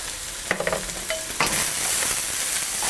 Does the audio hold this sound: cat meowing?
no